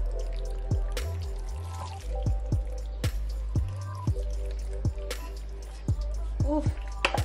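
Thick baked bacon mac and cheese tips from a pot into an oven dish in a home kitchen, landing in soft, wet plops and drips spread over several seconds, with faint low hum underneath.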